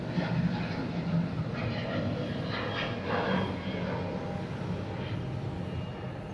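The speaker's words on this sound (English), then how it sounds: "I almost missed this Frontier takeoff" A Frontier airliner takes off at Atlanta airport, giving a steady, broad engine roar that swells and holds from a distance, with outdoor background noise.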